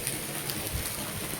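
Rain falling in a rural village, a steady soft hiss with faint scattered patter, continuous and fairly quiet throughout.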